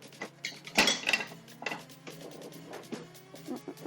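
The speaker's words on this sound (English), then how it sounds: "I'm going to grab my whisk just quickly" Metal utensils clatter and clink as a whisk is pulled from a kitchen drawer, with a sharp cluster of rattles near the start followed by softer scattered knocks, close and moderately loud.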